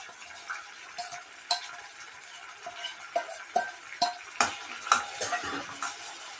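Ground spice paste being stirred into fried onions in a pan for a jackfruit curry, with a spoon scraping and tapping in a series of sharp clinks over a soft, steady sizzle.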